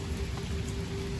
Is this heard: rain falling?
yes